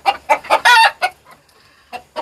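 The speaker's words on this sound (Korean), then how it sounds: "아주 성질 더러운 성질 더러운 수탉이 있는 버프 폴리시입니다" Buff Polish chickens with an aggressive rooster, heard close: a run of loud clucking calls building into a short crow, then a pause and two more clucks, with no talk.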